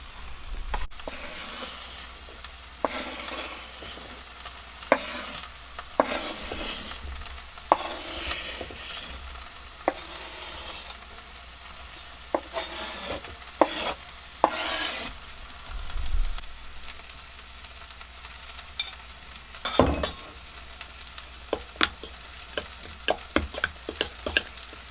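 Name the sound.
onions cooking in a pan on a boat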